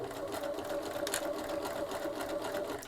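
A sewing machine runs steadily, chain-stitching small pieces of a rain cape together one after another in a continuous close, even whir with no pauses.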